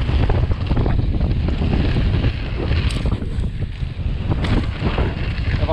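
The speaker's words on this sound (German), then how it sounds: "Ist aber windig." Gusty wind buffets the microphone on a mountain bike trail at the Schladming bike park, a continuous loud rumbling roar with no clear pauses.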